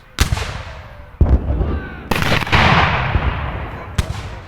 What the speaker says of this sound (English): the royalist cannon turned to aim upon the walls of the palace